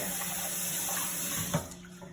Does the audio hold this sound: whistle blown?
no